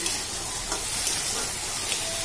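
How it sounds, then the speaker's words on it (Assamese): Panch phoron spices fry in a pan while being stirred, cooking for a jackfruit-seed fish curry; a close, steady sizzle runs throughout with light scraping of the stirring and no speech. "এইখিনি এতিয়া ভালকৈ ভাজি ল'ম অলপ সময় ভাজি ল'ম"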